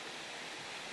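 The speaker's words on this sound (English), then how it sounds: "And then so this is the waterfall. It is quite small" A small waterfall in Manuel Antonio National Park, Costa Rica, gives a steady, even rush of falling water, close and continuous with no voices over it.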